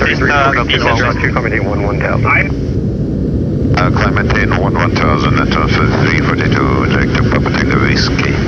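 Antonov An-124 Ruslan engines in flight, a loud, constant roar filling the cabin throughout, with a crew voice heard over the drone.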